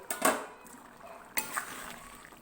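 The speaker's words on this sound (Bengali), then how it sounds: "এবার আমি ঢাকাটা সরালাম।" A lid lifts off a pot of cholar dal, Bengali chana dal, with a sharp metallic clink and scrape near the start, a second clatter a moment later, then quiet faint bubbling.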